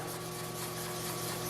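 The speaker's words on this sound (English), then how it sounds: "Need a bit more sanding." Steady, even abrasive rubbing of sanding black car paint close by, with a constant low hum underneath and no voices.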